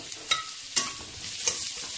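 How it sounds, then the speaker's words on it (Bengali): Beef, joined by korla (bitter gourd), stirred and fried in a pan, with a steady sizzle and a few sharp scrapes of the spoon against the pan, close and continuous with no talk. "তো এটাকে একটু নাড়ানাড়ি করে কয়েক মিনিট ভাজবো।"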